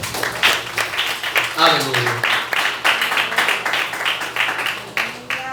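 A church congregation clapping in response to a preacher, a rhythmic burst of applause at moderate distance, with a voice speaking over it.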